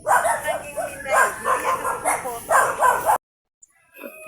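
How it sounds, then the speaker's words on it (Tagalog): Several dogs bark in quick bursts amid outdoor noise, then the sound cuts off abruptly, leaving near silence and a faint voice. "Ingay ang mga aso."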